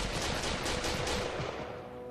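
AK-47 fire at a shooting range: a dense, loud run of rapid automatic shots that blur into a continuous rattling roar over about two seconds, with no talking.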